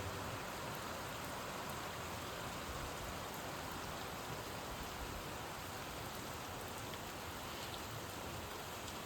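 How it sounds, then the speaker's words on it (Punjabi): Heavy rain pours down steadily over a village, a dense even hiss of drops on surfaces that stays constant and fairly distant, with no voices. "ਮੀਂਹ ਪੂਰਾ ਜੋਰਾਂ ਸ਼ੋਰਾਂ ਨਾਲ ਪੈ ਰਿਹਾ"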